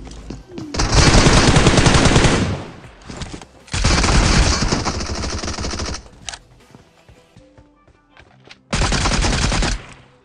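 MK assault rifle gunfire in the BGMI mobile battle royale game, loud close bursts of rapid automatic fire in three long volleys separated by quieter gaps with scattered shots.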